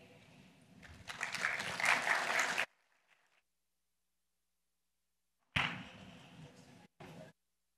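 A conference audience applauds the speakers, a burst of clapping that swells and fades within about two seconds, followed by near silence and then two short renewed bursts of sound.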